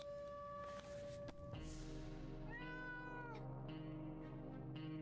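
A cat meows in the video game 60 Seconds, a drawn-out, whining cry that rises and falls over a couple of seconds, loud and clear over game music and background hum.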